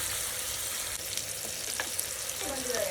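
Tomatoes fry in a pan for a Mysore-style biryani, a steady close sizzle with soft scraping and stirring strokes as they are mashed down.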